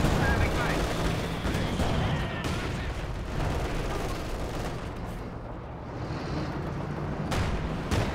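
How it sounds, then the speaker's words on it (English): Battle sounds in the Company of Heroes 2 strategy game: sustained loud gunfire and explosions with a few sharper sniper rifle cracks standing out. A commentator talks throughout. "Sniper picking away."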